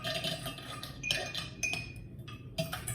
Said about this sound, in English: So I'm gonna put as much ice as I can in here.